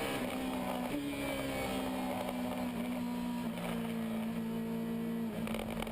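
Onboard a BBT Ferrari GT race car during a GT Asia race in Korea, the engine drones loudly and continuously, its pitch stepping up through gear changes and dipping briefly, with steady wind and road noise underneath.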